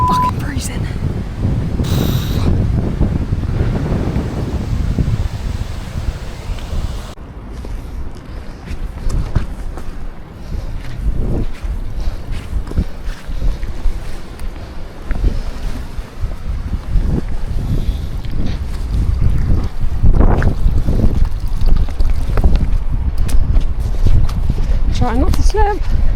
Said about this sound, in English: The wind has just hit us.